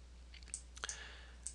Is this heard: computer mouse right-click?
yes